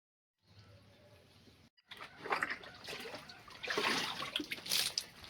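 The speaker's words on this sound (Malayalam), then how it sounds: "അപ്പോൾ നമ്മൾ നേരെ വെള്ളം മാറ്റാം കേട്ടോ" Water splashes and trickles as it is changed in a fish tank holding a large catfish, starting with a low hum and then rising into louder, uneven pouring and sloshing bursts close by, with no talking.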